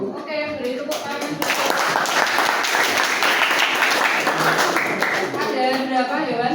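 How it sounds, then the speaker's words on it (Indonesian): A vocational school classroom bursts into applause for several seconds, the clapping dense and lively, with voices talking just before and after it. "Oke, beri tepuk tangan."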